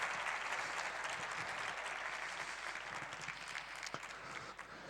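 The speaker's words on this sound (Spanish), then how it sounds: "a quien por favor recibimos con un aplauso al escenario de Cyberwall" Audience at a Spanish cybersecurity conference gives dense, steady applause to welcome a speaker to the stage. The clapping is sustained and even, heard from within the hall with no speech over it.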